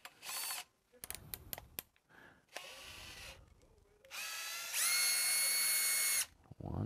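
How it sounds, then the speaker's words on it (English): Power screwdriver driving out three Torx screws on an IKEA BEKANT sit-stand desk during a repair, with several short whirring bursts, clicks and a longer high-pitched run near the end, close and fairly loud. "we're going to remove these three Torx bit screws"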